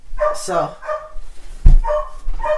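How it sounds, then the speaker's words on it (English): An excited dog barks indoors just after arriving home, with several sharp close barks and yips breaking through as someone talks over them. "Sorry about the dog."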